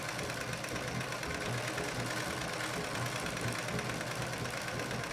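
A Pfaff 230 sewing machine free-motion quilts feathers into leather-look upholstery fabric, a constant fast mechanical hum and knock running unbroken and fairly close.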